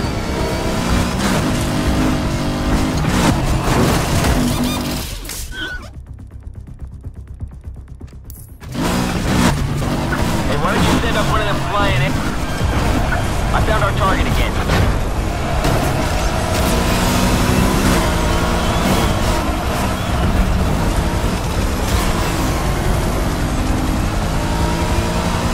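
Cars in a chase in the video game Need For Speed: loud, dense engine roar and mechanical clatter, cutting out briefly into a near-silent gap before the racing noise resumes at full intensity.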